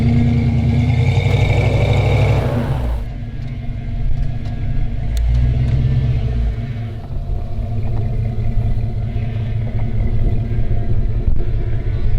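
A Ford Bronco's engine pulling uphill in four-wheel drive on Goodyear Wrangler Duratrac tires, a loud, steady low rumble that continues throughout with rough, shifting tones.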